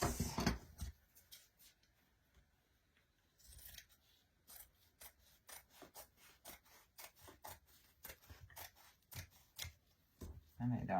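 Scissors trimming canvas fabric, producing a rapid series of crisp snipping cuts up close, in rhythmic bursts with a brief pause early on and quiet between cuts.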